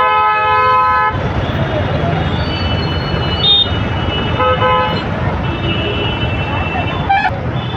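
Busy road traffic with several loud car horns honking in long and short blasts, close by, over a constant engine and road roar.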